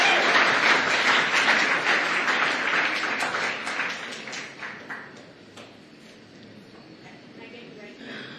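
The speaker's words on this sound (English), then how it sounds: "let's have one more round of applause to our fantastic panel." A conference audience applauds a panel loudly, the clapping gradually thinning and fading away over several seconds into quiet room tone.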